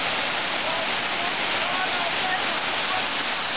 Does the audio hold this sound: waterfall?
yes